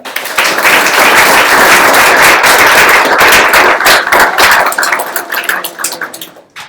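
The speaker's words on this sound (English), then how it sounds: "So another round of applause for our staff" Loud, dense applause from a crowd at a coding school's demo day honoring the staff, a sustained roar of many hands clapping close by that thins into scattered claps and fades out at the end.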